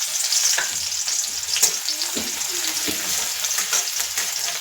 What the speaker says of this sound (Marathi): लसूण थोडी परतवून घ्यायची.